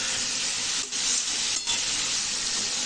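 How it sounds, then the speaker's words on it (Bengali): Potatoes being stirred with spices in a hot frying pan for a soybean vegetarian curry, giving a loud, steady broadband sizzle and hiss close up, interrupted by two brief dips as the spatula moves. "এবার মশলার সাথে আলুগুলোকে ভালোভাবে মিশিয়ে দেবো যাতে মশলাগুলো খুব সুন্দরভাবে আলুগুলোর গায়ে মেখে যায়।"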